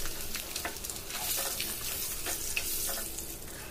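Egg frying in a pan of oil with turmeric and chili powder, a steady soft crackling sizzle with brief sharper spits, close and continuous with no talk.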